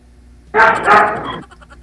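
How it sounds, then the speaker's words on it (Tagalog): A single dog bark, loud and close, short and sharp against a quiet background. "Oo, maingay po kasi yung aso."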